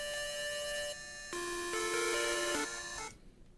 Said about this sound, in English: my top notes, they sound like, or my counter notes, they sound like this